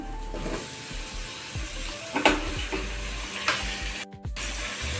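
Onions sizzling in a pan for a Tamil-style prawn thokku, a steady low frying hiss with a few soft stirring scrapes and a brief gap near the end.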